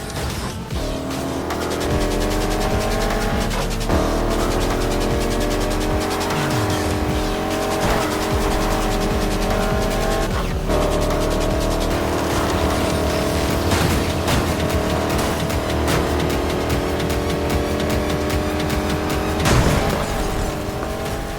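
Racing car in the Need for Speed Heat video game drifting through corners, with a loud continuous engine roar, repeated tire squeals and skids, and gear shifts over about twenty seconds, with no talking.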